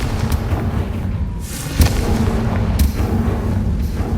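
A Confringo blasting spell from the Hogwarts Legacy video game going off as a loud, dense burst of explosive rumble with a couple of sharp cracks over continuous booming game noise.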